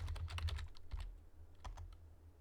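Rapid keystrokes on a computer keyboard enter a search in the VariantEditor modding tool for Total War: Attila, a quick burst of close, crisp clicks followed by a few scattered taps.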